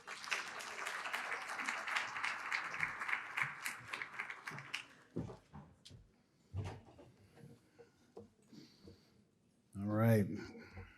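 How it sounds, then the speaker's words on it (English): Audience applause at a violence prevention community event, steady clapping for about five seconds that dies down into scattered claps, knocks and shuffling, followed by a short burst of louder close-up sound near the end. "give a round of applause for Deputy Chief"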